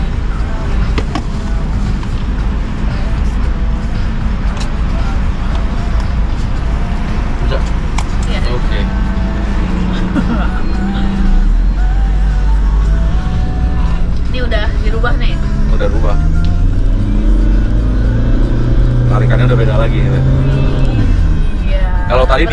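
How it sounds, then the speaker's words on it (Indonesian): A Toyota Innova diesel with a turbo revs hard, its engine roaring loud and close throughout, with the pitch rising and falling and people talking over it. "Kalau tadi digas kan turbonya seperti ada nahan kan?"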